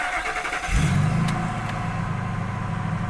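A warm 1999 Ford F250 with a 5.4 liter engine cranks and catches at close range, then settles into a steady, loud high idle with no talking.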